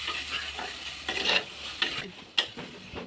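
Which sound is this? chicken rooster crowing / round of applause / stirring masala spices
stirring masala spices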